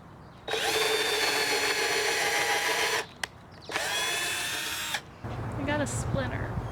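Power drill whirring in two long sustained bursts while working a wooden raised garden bed board, followed by a brief softer stretch with a voice talking near the end.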